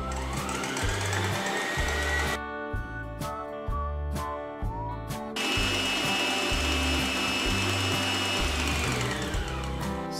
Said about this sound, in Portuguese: Agora vou bater em velocidade alta até ficar em ponto de neve.